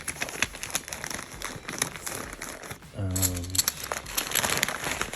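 Tent pegs being stuffed into a tent bag while packing for a rally: close crinkling and rustling of the bag with light knocks, a denser burst of crumpling midway, and a voice talking throughout.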